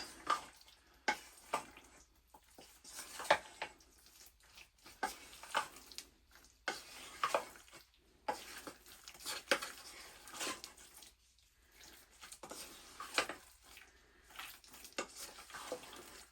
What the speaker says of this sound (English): I'll give that a good stir in there.